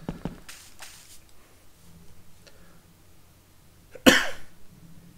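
One sharp, close cough bursts out after a few seconds of near quiet broken by faint clicks and small throat noises.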